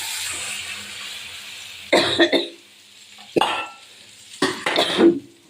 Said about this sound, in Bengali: কাশি হয়েছে ঝাঁঝে।